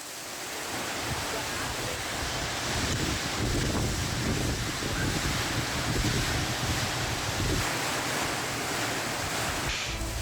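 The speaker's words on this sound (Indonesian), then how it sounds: "Sementara hujan deras disertai angin kencang menerjang Kabupaten Maros, Sulawesi Selatan." Heavy rain driven by strong wind in Maros, South Sulawesi, a steady dense roar of rain and gusting wind that stays loud and close throughout, with no voices.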